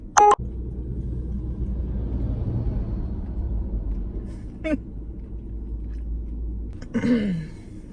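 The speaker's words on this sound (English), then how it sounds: "my Uber's going off" A rideshare driver app alert sounding on a phone, heard as short bright tonal chimes near the start, with a brief beep later, over a steady low rumble of a car or outdoor background.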